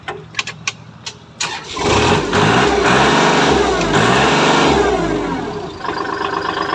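A used farm tractor's engine starts after a few clicks and taps, catching with a loud, close diesel clatter that settles into a steady, throbbing idle and eases slightly toward the end.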